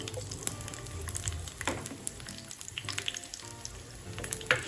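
Green chillies roasting in a hot pan for idli chutney, a steady crackling sizzle with scattered sharp pops, close and alone without talk.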